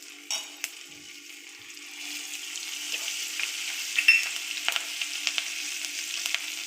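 Peanuts frying in hot oil in a pan on a low flame, a soft, crackling sizzle that builds after a couple of seconds, with a few light stirring clicks and no talking.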